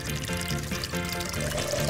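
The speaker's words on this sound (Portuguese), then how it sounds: "agora vamos colocar água" Water poured for homemade lemonade, a steady continuous splashing pour running close and fairly loud for about two seconds.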